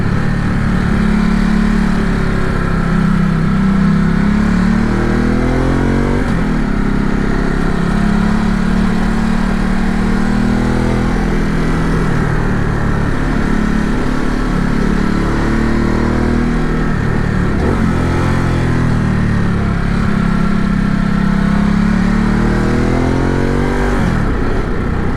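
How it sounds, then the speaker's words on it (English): A Ducati Multistrada motorcycle rides through curving mountain roads on Gran Canaria, its engine loud and close, revs rising and falling repeatedly with each bend and gear change, plus wind noise throughout. "this Multistrada is ripping through curves"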